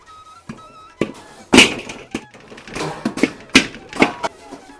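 Lumps of jaggery are broken apart in a kadhai while making sweet sev: a run of sharp, irregular knocks and cracks, close and fairly loud, with short gaps between the hits.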